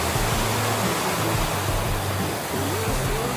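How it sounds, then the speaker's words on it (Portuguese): A waterfall beside a forest mountain-bike trail in Campos do Jordão pours steadily, a dense broadband rush close by, with faint voices mixed under the water. "Olha aí, só a cachoeira."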